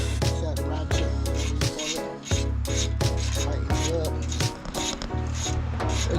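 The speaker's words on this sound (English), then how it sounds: "Set ratchet." A ratchet tightens a brake caliper bolt on a 2017 Honda Accord special edition, repeated close rhythmic strokes of clicking and grinding with short pauses between sets.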